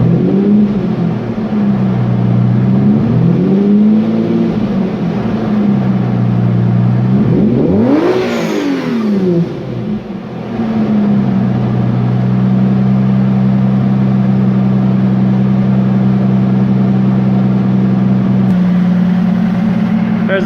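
A 1999 Lamborghini Diablo engine idles loudly, then one quick rev sweeps up sharply toward 7,000 RPM and falls back to a steady idle, close to the microphone.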